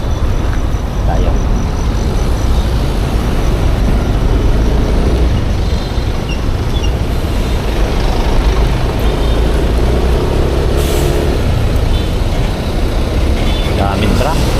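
Heavy trucks and other traffic roll past steadily on a road in rain, a dense continuous roar of engines, tyres and spray with no breaks, loud and close, with a person talking over it.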